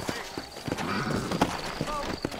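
Rhythmic clip-clop of horse hooves at a walking pace in the video game Red Dead Redemption, close and continuous, mixed with background game sounds and voices.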